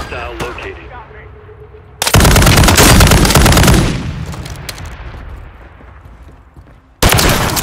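Gunfire in a battle royale video game, with dense bursts of loud automatic fire and booming impacts that fade, then resume abruptly, while players talk over it.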